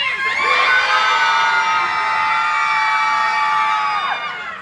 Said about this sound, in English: And now we scream!